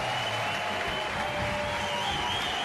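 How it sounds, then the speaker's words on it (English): Crowd giving a standing ovation at the women's final of the 2010 World Ultimate Club Championships, Japan UNO against San Francisco Fury, with continuous applause mixed with a steady tonal whistle or hum, dense and sustained. "The entire crowd is giving both teams a standing ovation."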